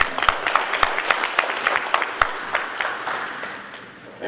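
An audience claps for a coach speaking at a school event, a lively burst of close, distinct handclaps with sharp individual slaps that gradually tapers off, then picks up slightly at the very end.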